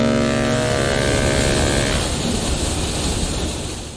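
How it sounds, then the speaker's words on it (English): A video game boat engine gives a steady, loud, airplane-like drone with a high whine, fading slightly toward the end, running nearby. "does every boat in this game sound like an airplane?"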